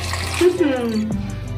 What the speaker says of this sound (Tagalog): Ilalagay na natin yung ating tubig, guys. Pwede hot water or ano, akin, tap water lang to.